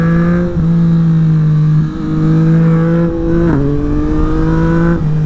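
A 2024 Yamaha MT-09 SP three-cylinder motorcycle with an Akrapovic exhaust revs loudly and close, its engine pitch climbing through several gears with brief dips at each shift, with no one talking.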